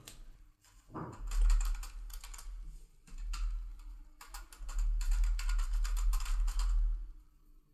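Rapid clicking bursts of a computer keyboard as an address is typed into an income tax registration form, close and fairly quiet, in quick runs separated by short pauses.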